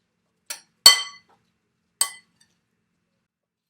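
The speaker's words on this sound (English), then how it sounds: "I can hear the spoon clink and the apples moving around while I'm mixing." A spoon clinks against a bowl while apple charoset is mixed, three sharp, bright taps spaced over a few seconds with quiet between them, close and clear.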